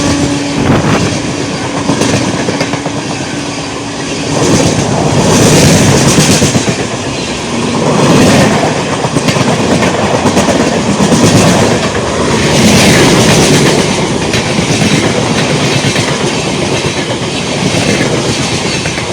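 The Alipurduar–SMVT Bengaluru Amrit Bharat Express passes with its locomotive, a loud, close rumble of wheels with rhythmic clickety-clack over rail joints and swelling waves of coach noise, sustained and without voices.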